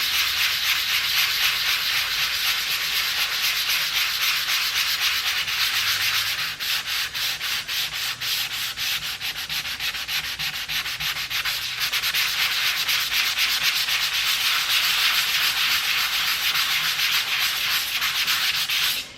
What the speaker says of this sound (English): So you're gonna sand it gently. I like to go in circular motions.